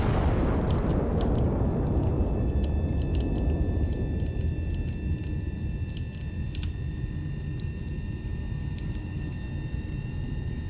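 A heavy turret gun in Iron Nest: Heavy Turret Simulator fires a single massive blast. The deep rumble fills the opening and decays slowly over several seconds, with faint mechanical ticks lingering afterward.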